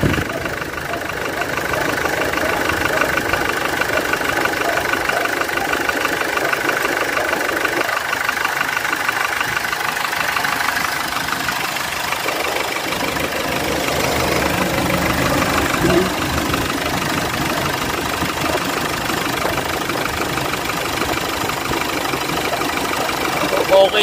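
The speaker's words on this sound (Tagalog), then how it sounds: "Timing niya kumakalampag yung ano, yung maliit na kalampag sa kadena. Malakas." A Hyundai Porter II 1500 engine idles steadily with a faint, rapid rattle from a loose timing chain, a continuous mechanical clatter heard close up under intermittent talk.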